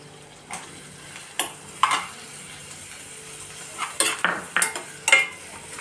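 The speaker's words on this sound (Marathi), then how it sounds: "आता हे आपल्याला कांदा घालून घेऊयात आपण." Chopped onion goes into a hot pan for paneer bhurji, and a spoon stirs it with scattered clinks and scrapes against the metal over a soft sizzle. The strokes come in irregular bursts, close and fairly quiet.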